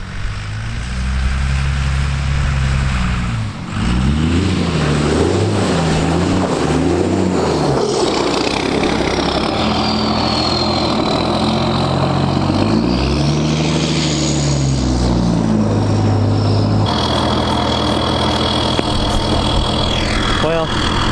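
One-ton dually diesel pickup revving and spinning its wheels on icy gravel, a steady loud engine drone rising and falling in pitch with throttle bursts, tires scrubbing underneath, with a faint high whine over the top.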